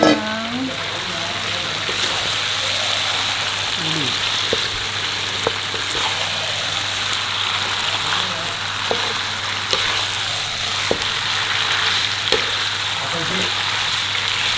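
Beef skin (kikil) sizzles in hot Padang curry spice paste, a steady loud frying hiss with occasional stirring clicks and pops close by.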